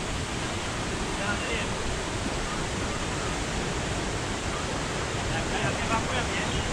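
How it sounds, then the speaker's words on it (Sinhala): Varnakala Ella waterfall in Sri Lanka pours as a steady, dense roar of rushing water, loud and unbroken throughout. "වර්ණකල ඇල්ල"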